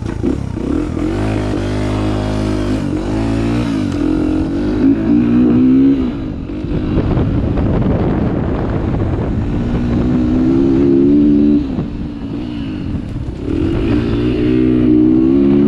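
A CR80 dirt bike converted with an XR100 setup roars loud and close while being ridden, its engine revving up and down in rising and falling waves, with wind buffeting the microphone.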